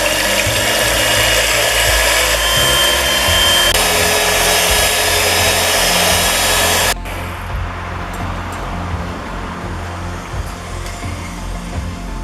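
An electric mixer beats egg whites with a pinch of salt, a loud steady motor whir close up for about seven seconds before dropping to a quieter, lower hum with light clattering.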